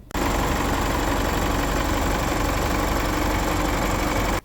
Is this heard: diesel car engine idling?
yes